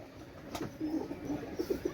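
Pigeons of fancy breeds such as Pakistani royal teddy and Oman teddy coo softly and repeatedly nearby, low rolling calls coming in quick pulses after a brief knock.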